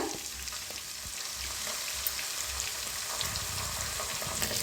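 Ginger garlic paste with a pinch of asafoetida frying in a pan, a steady close sizzle with faint stirring scrapes throughout; no talking.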